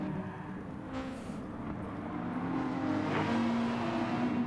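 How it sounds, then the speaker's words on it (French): Race car engine in an eGP esports racing game, drifting through a slide with a steady loud drone that swells slightly toward the end, heard alone. "on va revoir le petit drift qui nous avait fait là, Silent Wolf, juste avant"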